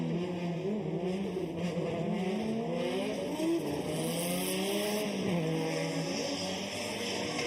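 Toyota GR86 drift cars at a Formula Drift Japan Top 16 battle at Ebisu, engines roaring loudly and continuously with rising and falling revs and tires squealing, heard at a distance with no talk.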